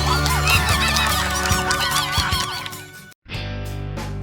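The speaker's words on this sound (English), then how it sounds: "The giant duck." A cartoon giant duck honks loudly in repeated, wavering goose-like calls over a steady musical drone, then stops briefly before a lower continuing tone, with no talking.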